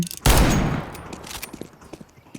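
A single loud, close gunshot in a shooting video game booms early and rings out in a long fading tail, with faint scattered clicks and pops afterward.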